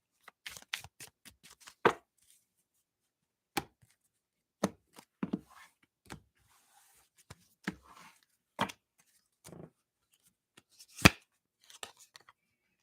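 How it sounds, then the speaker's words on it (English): Tarot cards being shuffled and riffled in short bursts, sharp quick flutters separated by quiet gaps, close by and alone. "You guys saw how much I shuffled it."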